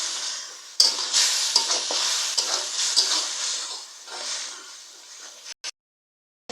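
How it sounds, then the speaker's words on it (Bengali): Chili and coriander powder spice paste sautéing in a pan with turmeric: a steady, close sizzle with stirring scrapes and spoon knocks for about five seconds, ending abruptly. "মরিচ গুঁড়া ধনিয়া গুঁড়া এখন মশলাটাকে ভালো করে কষিয়ে নেব"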